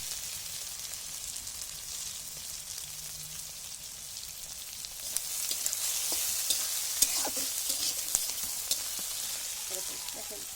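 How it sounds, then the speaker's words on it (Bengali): Bitter gourd fries over high heat, its soft hissing sizzle growing louder halfway through, with scattered clicks and spoon taps from stirring in a quiet kitchen. "এরকম হাই হিটে ভেজে নেব করলাগুলো।"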